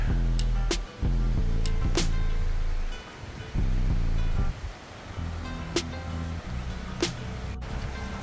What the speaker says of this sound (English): just take a look at the waterfall runoff here from a good elevated area